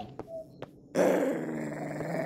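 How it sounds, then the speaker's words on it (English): A dog growls low and sustained in the video game Anglerfish, preceded by a couple of sharp clicks, the growl rumbling steadily and close for over a second. "It's not a happy doggy"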